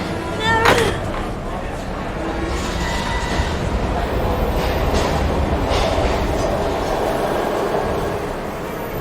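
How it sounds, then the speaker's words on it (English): A train in the Heavy Rain video game rumbles along steadily with rail clatter, fairly close and continuous, while voices speak over it. "We gotta get on that train, Ethan."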